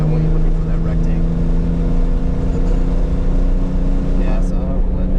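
A manual 2025 Porsche 911 Carrera T accelerates on a race track, its engine a loud, steady in-cabin drone with strong low harmonics throughout, with a voice speaking over it.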